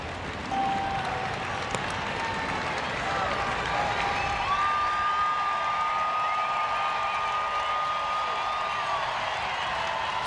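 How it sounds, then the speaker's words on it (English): A crowd at a Cardinals vs Giants baseball game keeps up a steady roar with rising cheers, heard at a distance under a commentator's talk. "Crowd's been into it with every pitch today."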